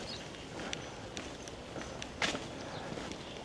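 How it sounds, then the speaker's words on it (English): A dog's soft, irregular footsteps patter across a quiet outdoor space in Sukhothai, Thailand, a few light taps standing out against faint background noise. "All I can hear is this dog's footsteps."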